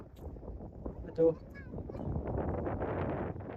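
Strong wind gusts buffet the microphone on a hilltop in a forest, a steady broadband roar that builds over the second half while a voice speaks briefly near the start.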